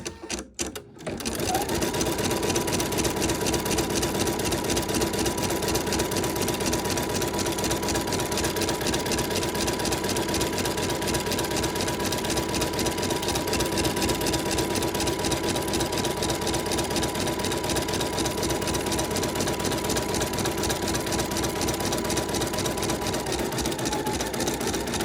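An embroidery machine stitches out an applique design on fabric held in a hoop, running as a steady rapid mechanical hum and clatter for nearly the whole stretch after a brief start, loud and continuous with no talking.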